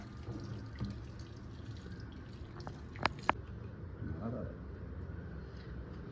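Leaves are rinsed under running tap water, a low steady trickle with a couple of sharp drips or clinks, heard alongside nearby conversation.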